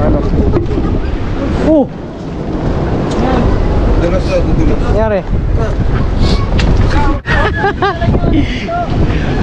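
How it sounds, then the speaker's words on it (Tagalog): Strong wind buffets a motorcycle on a stormy coastal ride in Batangas, a steady loud roar through most of the stretch, while voices shout and talk over it. "Lakas ang hangin dito."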